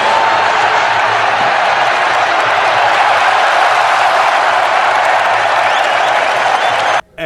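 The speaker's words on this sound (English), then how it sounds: "We got applause instead of booing" Loud, steady applause from a large arena crowd cheering the Obamas' kiss on the kiss cam, sustained for several seconds before cutting off abruptly.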